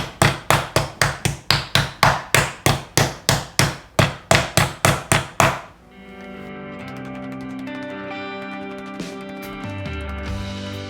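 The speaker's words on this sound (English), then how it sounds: "And now we use our wooden mallet or meat tenderizer and very gently try to flatten the pieces into evenly thick" Boneless pieces of meat for German schnitzel are pounded flat with a wooden mallet: about twenty sharp, evenly spaced thuds ring out close and loud, then the pounding stops and only faint background noise remains.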